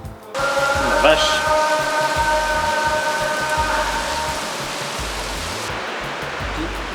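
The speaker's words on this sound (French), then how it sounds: "c'est la pluie, on est dans la pluie" Heavy rain falls steadily as a dense, loud hiss, with a brief tonal hum near the start, continuing evenly throughout.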